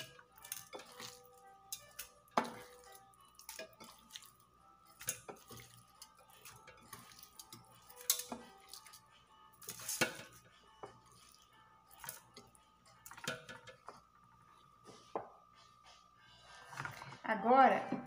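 Pork rinds are dropped by hand into a dry pressure cooker with no oil, giving sparse close clinks and soft taps of the pieces against the metal pot, with a voice talking faintly at times.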